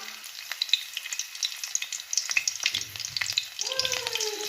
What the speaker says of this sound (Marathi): आता कढई मध्ये तेल टाकले मी आता लसण लसूण टाकून घे